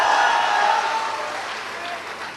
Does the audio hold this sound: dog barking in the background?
no